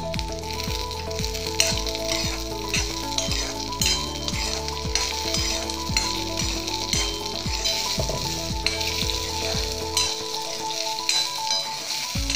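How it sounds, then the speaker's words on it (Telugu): Green chillies, cumin seeds and coriander seeds sizzle in hot oil in a pan for tomato chutney, making a loud, continuous crackling fry close up, broken by regular scraping stirs of a spoon. "ఈ వేగుతున్న పచ్చిమిర్చిలో 1 టీ స్పూన్ జీలకర్ర, 1 టీ స్పూన్ ధనియాలు వేసుకొని ఒకసారి వేయించుకుందాము"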